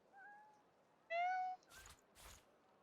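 Cat meows in the video game Divinity: Original Sin II, one short meow followed by a longer, louder one, then two broad bursts of other game sound; no one talks.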